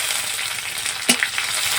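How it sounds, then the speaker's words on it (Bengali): Chopped onions fry in oil with a steady, moderate crackling sizzle and a brief stir or clatter partway through, heard close with no voices. "পেঁয়াজটা হালকা একটু ভেজে নেব।"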